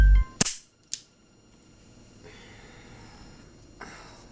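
A gun goes off with a sharp, loud pop, followed half a second later by a smaller snap, then near silence with faint rustling.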